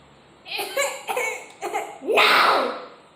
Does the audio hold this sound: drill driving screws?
no